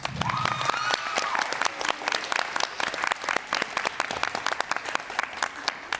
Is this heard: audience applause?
yes